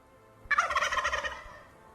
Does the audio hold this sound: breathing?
no